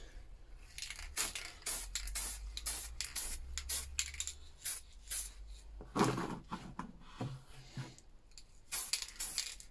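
Wilko primer sprayed from an aerosol can onto a small diecast Matchbox Rover Sterling, a series of short, quiet hissing bursts mixed with light handling clicks and rustles, with no talking.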